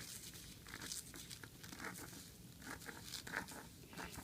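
Scissors cut through paper sewing pattern pieces for lengthening a trouser crotch depth, a steady run of soft crisp snips and crinkles, close and fairly quiet, with no talking.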